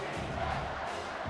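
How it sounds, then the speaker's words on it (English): A stadium crowd roars in College Football 25 during a Clemson Tigers versus South Carolina game, a dense, steady wall of cheering that stays loud throughout with no pauses. "this crowd is tearing the lid off this place"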